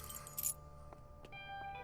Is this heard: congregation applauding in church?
no